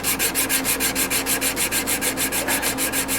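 Sandpaper rubbing back and forth across a scratched camshaft, a steady rhythmic scraping with even strokes about four per second, close and fairly loud with no talking.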